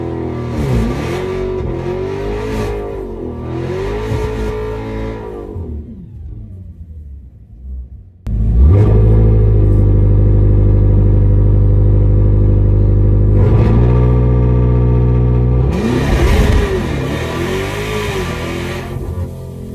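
A loud, roaring Dodge Demon 170 engine revs hard and launches with tire spin, then a sustained, deep, heavy roar as the drag car pulls away. The opening has a gap of near silence.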